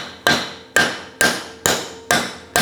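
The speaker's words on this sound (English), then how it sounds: "as soon as you start hitting it with a steel hammer" Six sharp, evenly spaced steel hammer blows ring out on a wooden axe handle, each a loud crack with a short decay, close up and with no talking.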